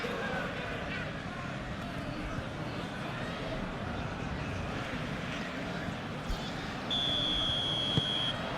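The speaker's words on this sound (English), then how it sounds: "There's the whistle." A referee's whistle sounds in a simulated PES Premier League match between Wolves and Chelsea, a sharp, shrill tone near the end over a constant stadium crowd roar and commentary.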